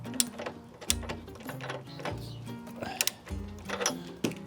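A wrench torques an NGK spark plug into a lawn mower engine, a brief close run of ratchet clicks and small metallic knocks over a low hum.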